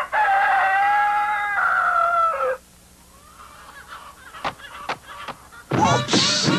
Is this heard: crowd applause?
no